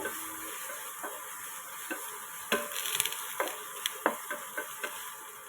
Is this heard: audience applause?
no